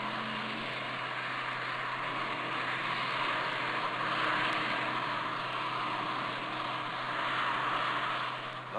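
Jet aircraft engines of a formation display team run on the ground before taxiing, a steady broad roar with a constant low hum, loud and unbroken throughout with no talk.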